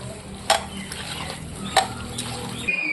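Duck meat being mixed with mustard oil and chopped onion in a bowl, a soft wet stirring and squelching with a couple of sharper clinks against the bowl, close and moderately quiet.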